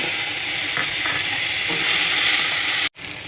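Ground spice paste sizzles loudly in hot oil seasoned with panch phoron and dried red chili, in the pan used for frying paneer. A dense, steady frying hiss runs throughout, cut briefly by a short gap near the end.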